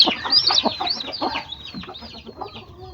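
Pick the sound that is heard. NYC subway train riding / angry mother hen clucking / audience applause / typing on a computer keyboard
angry mother hen clucking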